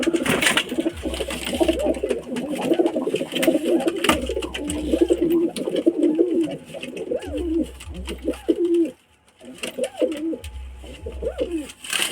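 Pet pigeons coo over and over, close and loud. The throaty, rolling calls repeat in a steady rhythm while low thumps and rustles come from the birds moving around.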